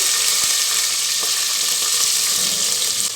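Green chilies and onion frying in hot oil with mustard seeds and cumin give a steady, loud, dense sizzle with no pauses, plus a few faint ticks of seeds popping.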